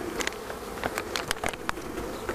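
Honey bees swarm around an open hive of aggressive bees being given a building frame and honey super, making a dense, continuous, close buzz with faint wingbeat flickers throughout.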